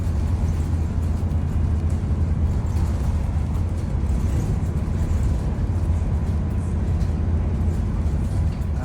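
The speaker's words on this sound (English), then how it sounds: "I'm going to add a clip in of the bus, how fast we were going" A bus speeds hard along a road, its engine and road roar forming a constant dense rumble, steady and fairly loud for the whole stretch with no voices.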